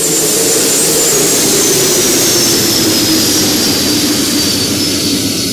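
A Boeing 767's jet engines roar steadily in flight, a loud continuous broadband rush with a faint high whine on top and no break or change for the whole stretch.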